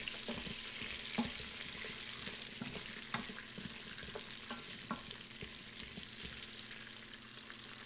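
Onions sautéing on high heat in an Instant Pot, giving a steady close sizzle and crackle with scattered soft clicks of stirring throughout, no talking.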